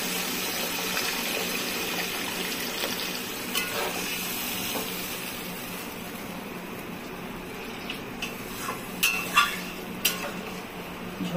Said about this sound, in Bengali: এখন আমি জল দিচ্ছি।